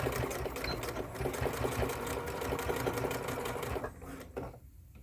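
A sewing machine back stitches over elastic, running in a fast, steady mechanical whir with rapid needle clatter that slows and stops near the end.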